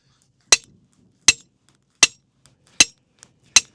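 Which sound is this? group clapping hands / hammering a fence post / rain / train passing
hammering a fence post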